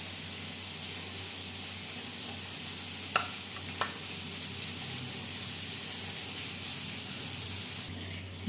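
Two medium tomatoes frying in a pan for fish curry, a soft steady sizzle and hiss with a couple of faint utensil taps.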